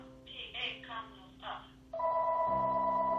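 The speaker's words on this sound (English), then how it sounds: "And now my phone's ringing." Talking at first, then an electronic phone ring starts and holds steady, a loud sustained tonal trill close by.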